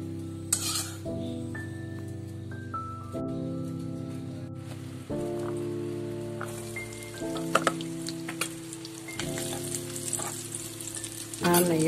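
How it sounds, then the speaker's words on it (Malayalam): Cashews and raisins sizzling in hot ghee for a cooker-made payasam, a soft steady frying hiss running under a stepped melodic tune. "നമ്മൾ വറുത്ത് വെച്ച് ക്യാഷ്നട്ട് കിസ്മിസ് ഇടാം."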